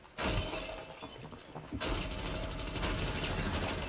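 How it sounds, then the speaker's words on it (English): Bathroom window glass shattering in the tactical shooter Rainbow Six Siege, a loud sudden crash followed by sustained crunching and breaking debris, with a brief gap before another burst of shattering. "Start breaking some bathroom windows."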